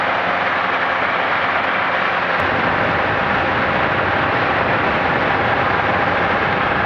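A Zenith CH 750 Cruzer light aircraft with a UL350iS engine and 68-inch propeller drones loudly and steadily in cruise, heard from inside the cabin, with a slight shift in pitch partway through.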